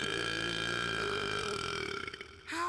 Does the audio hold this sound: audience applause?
no